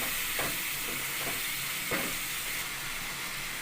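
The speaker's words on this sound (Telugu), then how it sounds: "జీడిపప్పు ముక్కలు వేగిన తర్వాత ఉల్లిపాయ, పచ్చిమిర్చి వేపుకుందాము." Onion and green chili frying in a pan with cashew pieces for paneer curry, giving a steady close sizzle with a few soft stirring scrapes, no talking.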